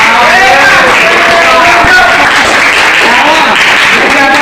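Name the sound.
applause, clapping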